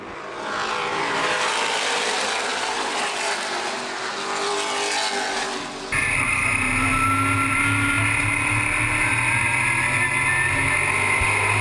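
NAPA late model race cars on an oval track take the green flag and accelerate, starting as a loud blended roar of engines before a sharp change to a close, high, whining engine scream with steady rumble underneath.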